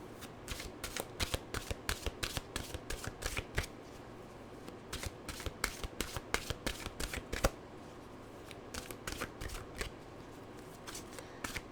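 A deck of mantra cards is shuffled close by, crisp riffling bursts repeating in quick rhythmic sets, with a short pause before several more rounds.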